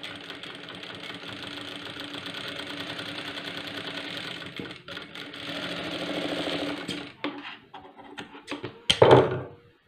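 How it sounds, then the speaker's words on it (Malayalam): Sewing machine double-stitching the front piece of an unlined blouse, a steady mechanical whirring run for several seconds that stops with a brief clunk, near and alone. "ഇതും ഡബിൾ സ്റ്റിച്ച് ചെയ്തെടുക്കുക"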